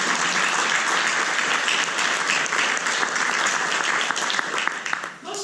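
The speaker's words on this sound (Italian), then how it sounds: "Quindi vi facciamo comunque un applauso e vi apprezziamo." Audience applause at a donation-themed conference in Vicenza, dense sustained clapping from a crowded hall that holds steady and thins slightly near the end.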